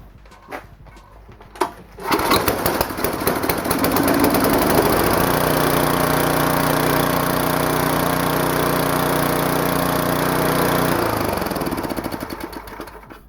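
A 10hp snowblower engine with a freshly cleaned carburetor and the choke on fires up after a couple of sharp pulls, then settles into a loud, steady, rumbling run before cutting off near the end.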